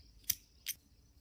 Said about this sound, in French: Et là, vous pouvez couper.